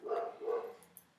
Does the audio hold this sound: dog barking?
yes